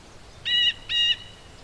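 A bird calls twice in quick succession, each a clear, sustained tonal whistle of about a quarter second, close and loud against a quiet background.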